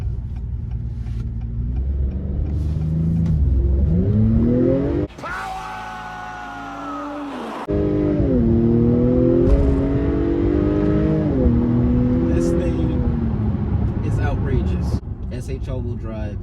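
Acura TLX 2.0T sedan engine in sport mode, revving and accelerating loudly with rising and falling pitch through gear changes, continuous and close.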